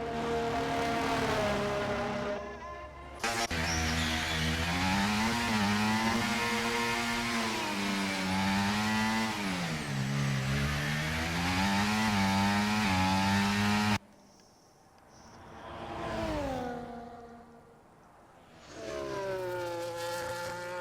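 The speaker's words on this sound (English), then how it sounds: "can I hear an engine sound?" A racing car's engine wails in the F1 24 video game, loud and close, with rising and falling revs through gear changes and corners, then cutting briefly before climbing again.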